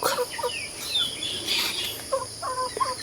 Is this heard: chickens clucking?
yes